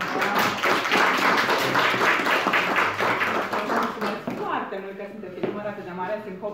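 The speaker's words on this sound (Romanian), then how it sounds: "Așa că eu vreau să mulțumesc cu aplauze." A live audience at a motivational talk on setting New Year goals bursts into a dense wash of clapping for several seconds, then it fades out while a voice carries on.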